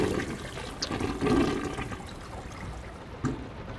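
A toilet flushes with a rushing gush of water that settles into steady running and trickling, fairly close and continuous, in the horror video game Layers of Fear; no voices.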